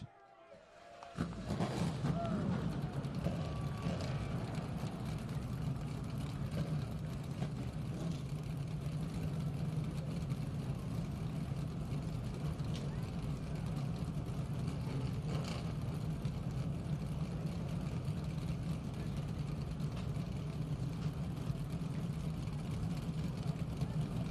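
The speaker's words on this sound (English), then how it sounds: "Gentlemen, start your engines." Field of race cars firing their engines at once after the starting command, an abrupt burst into a sustained, layered rumble of many idling motors on a front straightaway, with a voice briefly audible before it.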